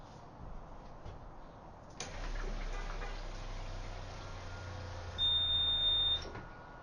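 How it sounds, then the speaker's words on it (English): A water treatment UV system starts up with a low fan hum that rises and holds steady, then a loud, sustained electronic beep sounds near the end over the running fan. "We have beeping, we have fan noises."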